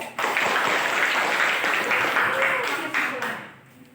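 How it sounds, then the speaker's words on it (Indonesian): A classroom of students applauds a group's drawing, a dense wash of clapping that holds steady for about three seconds before fading, with voices mixed into the noise. "kita tepuk tangan dulu"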